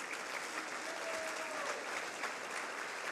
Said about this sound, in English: Just a round of applause for him quick.